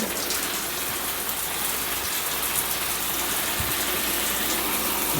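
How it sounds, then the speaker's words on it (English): Steady rush of running water from a shower in a 2024 Dutchmen Aspen Trail RV, spraying continuously and evenly, close by with no voices. "We're going to run both hot and cold in all sinks, shower, toilets, everything."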